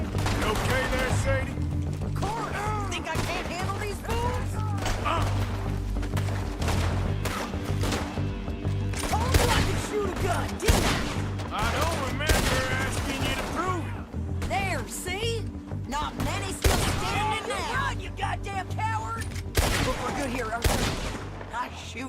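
Dense gunfire in Red Dead Redemption 2, rapid overlapping shots and bursts crashing continuously throughout, loud and close with a few heavier impacts, voices talking beneath the shooting.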